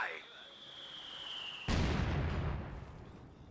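Mortar barrage shell explosion in Company of Heroes 2, a sudden loud broadband blast that lands mid-clip after a steady tonal hum and decays over a couple of seconds, with a voice talking underneath.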